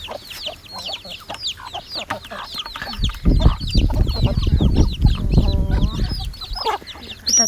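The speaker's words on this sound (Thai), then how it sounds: "อันนี้ก็เป็นไก่บ้านของเรานะคะ รอกินเหยื่อนะคะ หิวมาก" Several free-range backyard chickens, hungry and waiting for food, cluck and squawk close by, overlapping calls in a busy flock, with a burst of louder scuffling and commotion midway.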